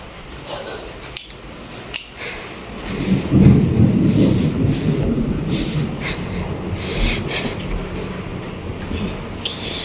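Rain and thunder in the Saudi Arabian desert: a steady rain wash with a couple of sharp cracks early on, then a swelling low rumble of thunder that lingers under the continuing rain, with no talking.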